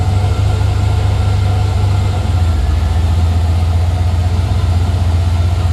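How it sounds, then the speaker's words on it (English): A turbocharged LS V8 idles in a Chevrolet S10 truck with a 4L80E transmission, producing a steady, loud low rumble throughout with no talking. "it definitely is running a lot better and idling way, way better"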